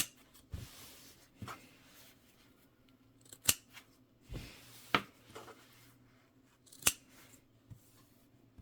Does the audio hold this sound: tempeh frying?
no